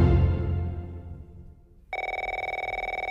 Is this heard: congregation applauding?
no